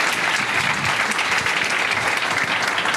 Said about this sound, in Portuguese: Aplaudan al Señor